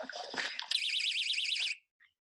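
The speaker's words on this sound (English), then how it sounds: "tie these rape alarms with some cord to them" A personal rape alarm rigged as a camp tripwire for polar bears on a Greenland caving expedition blares a loud, warbling electronic siren for about a second after some rustling, then cuts off abruptly.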